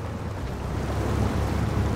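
A truck in the video game SnowRunner ploughs through water, giving a steady broadband wash and rumble of churning water with low engine drone, continuous and fairly loud, no talking.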